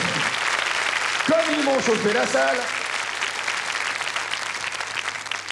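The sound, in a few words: audience applause for the musicians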